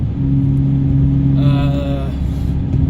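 A Ford Mondeo ST220 V6 with a stainless steel exhaust idles with a steady low rumble, then a brief rev swells briefly toward the middle before settling back to idle, loud and close.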